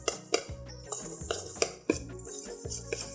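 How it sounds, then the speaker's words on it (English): A utensil knocks and scrapes against a bowl as almond flour, melted butter, vanilla extract and monk fruit sweetener are mixed into a cheesecake crust, several distinct clinks over steady scraping, close up with no voices. "Mix it around really good, make sure you combine all this really good"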